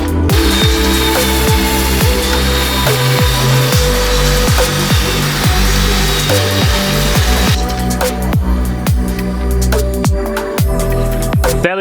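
A power tool cuts a rough hole in aluminum during a supercharger and blow-off valve install, giving a loud, continuous grinding and rasping with repeated strokes and a brighter, harsher stretch near the end.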